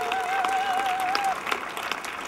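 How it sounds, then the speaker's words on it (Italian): Dense clapping from a crowd fills the space, steady and fairly loud, with a high whistling tone sustained over the first half. "Tenete questo applauso forte per Massimo!"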